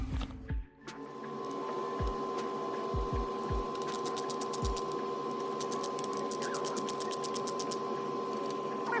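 A screwdriver removes Phillips screws from the wide front bumper of a Traxxas Bandit RC car. Quiet, close work with a few soft knocks, then bursts of fine ratcheting clicks over a low background hum.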